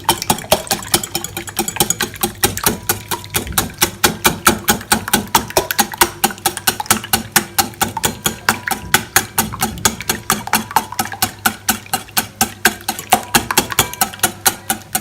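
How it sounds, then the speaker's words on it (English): Eggs are lightly beaten in a bowl, probably with a fork or whisk, as a fast, even stream of sharp clicking taps against the bowl that holds a steady rhythm the whole way through. "In another bowl, I'm gonna whisk the eggs."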